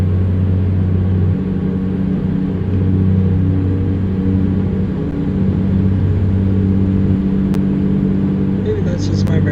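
Heavy truck engine straining on the road in American Truck Simulator, a loud steady low drone with shifting tones and a few faint beeps, with a voice talking over it.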